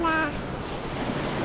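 Broadband wash of sea waves with a brief voice-like tone at the very start, then steady rushing surf and wind.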